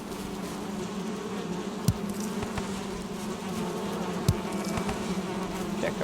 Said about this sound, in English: Check up on the bees here since I'm here.